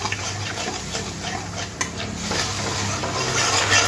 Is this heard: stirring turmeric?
yes